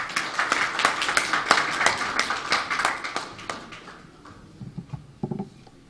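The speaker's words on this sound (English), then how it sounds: "Let's give her a round of applause." An audience applauds at the launch ceremony of an education programme in Belize, a dense burst of many hands clapping that thins out and trails off into a few scattered claps near the end.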